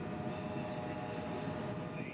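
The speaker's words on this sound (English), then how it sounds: "B311 would bring this train of empties back into the Bone Valley" A freight train of empty cars rolls past nearby with a loud, steady rumble, squealing wheels and faint clatter throughout, no voices.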